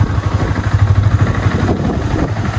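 A motorcycle engine running on a village road, a loud, close, rhythmic low throb with steady pulsing, as if idling or rolling slowly.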